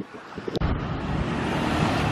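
Gusty wind at Pattaya beach buffeting the microphone, rumbling and rising after a brief dip, with faint surf and traffic beneath, no talk.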